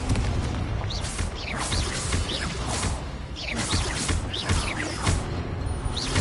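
Spell blasts from Confringo in Hogwarts Legacy on PS5: repeated booming, whooshing bursts with crackling impacts every second or so, loud and dense over a constant game soundscape.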